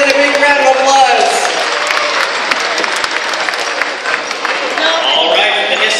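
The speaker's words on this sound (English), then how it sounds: "Let's give Merlin a big round of applause." An audience at a Jungle Island animal show applauds for Merlin after a catch, a dense, loud round of clapping with some cheering that carries on steadily for several seconds.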